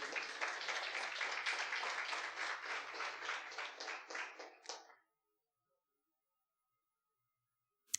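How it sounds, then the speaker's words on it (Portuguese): A church congregation claps together in a sustained round of applause for about five seconds, dense and even, then tapers off abruptly into silence. "Você pode aplaudir a palavra do seu Deus"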